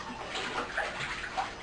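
Water splashes and sloshes steadily at moderate distance as someone washes by hand at an outdoor laundry tub, a continuous wet rushing with small splashy peaks and no talking.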